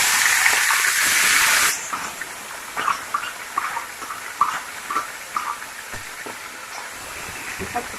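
Liver dropped into hot oil or ghee in a tray gives a loud steady hiss at first, which settles into softer crackling sizzles with intermittent spits, while a voice speaks faintly.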